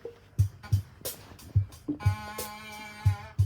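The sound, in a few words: vocal sample of a voice going ah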